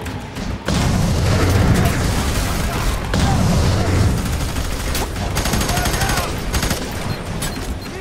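Rapid bursts of gunfire and booming blasts from the horror shooter F.E.A.R. crackle almost nonstop through a firefight, loud and close, with players talking over the shooting.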